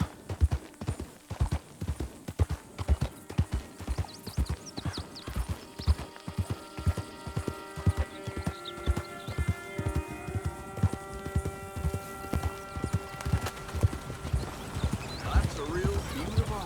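Horse hooves clip-clopping as a rider moves around in Red Dead Redemption 2, a steady rhythmic run of hoofbeats throughout with game music tones, while someone talks over it.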